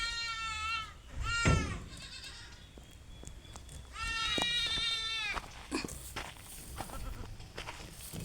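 Dairy-line Zaanen goats with their young kids bleat in long quavering cries, one loud call early, then a drawn-out cluster of overlapping bleats mid-way, close by, with shuffling hooves and rustling between calls.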